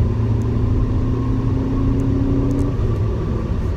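A Ford Focus ST accelerates onto a highway, its engine droning steadily from inside the cabin with a rising tone and a brief shift of pitch near the end, no talk.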